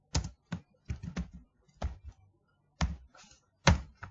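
Keys tapped on a computer keyboard while entering data into an Excel formula bar, heard as short irregular bursts of clicks, close and fairly quiet, with no talking.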